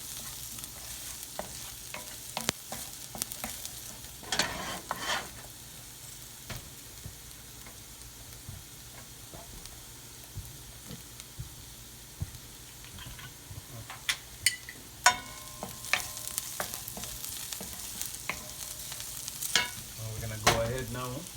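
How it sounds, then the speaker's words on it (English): Risotto sautés in a pan on the stove with a steady close sizzle, broken by repeated scraping and clicking strokes as a utensil stirs it. "So we're just gonna saute up this for a little longer."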